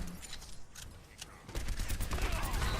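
D.Va's missiles fire in Overwatch, a dense volley of sharp rapid bursts that swells from about halfway through, loud and close amid other gunfire, with some voices underneath.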